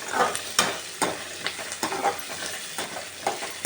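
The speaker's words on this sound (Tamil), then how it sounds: "இப்போ இந்த கேப்சிகமும் இந்த வெங்காயத்தையும் நல்லா வதக்கி எடுத்துக்கலாம்" Capsicum and onion sautéing in a pan, with steady close sizzling and frying crackle broken by repeated scrapes and stirs of a spoon, no voices.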